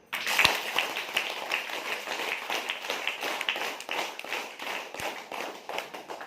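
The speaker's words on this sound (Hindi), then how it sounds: "अब ताली बजा" A group of mothers at a self-defence workshop clap their hands in a continuous ragged patter of many overlapping claps, fairly close and steady, with a few sharper individual claps standing out.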